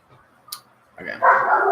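A dog barking at home during a livestream, a short rough bark burst rising at the end after a faint click, fairly close.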